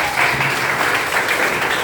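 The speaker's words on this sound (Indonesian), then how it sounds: "Tepuk tangan dong." A classroom group claps in a short, steady burst of applause before a group presentation in a school lesson, fairly loud and close, with no talk over it.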